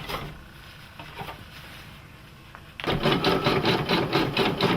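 A Brother PE770 embroidery machine runs its carriage spin test after a service: a quiet start with small clicks, then a loud, rapid, rhythmic mechanical whirring and patter that kicks in abruptly and continues close to the mic.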